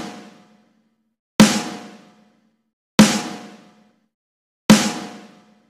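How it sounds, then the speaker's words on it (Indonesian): A snare drum cracks three times at a slow, even pace, each sharp hit ringing out and fading to silence, with the dying tail of an earlier stroke at the start. "Kemudian ketuk snare sebanyak 4 kali."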